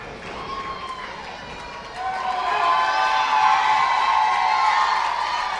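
A wrestling crowd cheers for the Top Guns tag team, a broad roar of voices that rises and holds loudly, with higher shouts and whistles above it.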